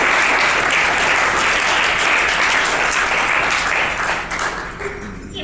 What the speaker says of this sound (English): This year, you can please give yourselves a round of applause